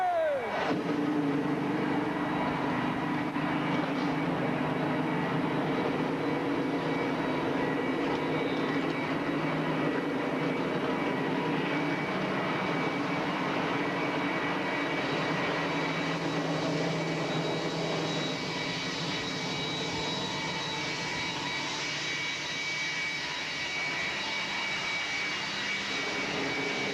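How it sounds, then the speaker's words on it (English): NASCAR stock cars fire up for the 2002 Budweiser Shootout at Daytona, and a loud, dense engine roar holds steady for the whole stretch, with no break or fade. "Gentlemen, start your engines!"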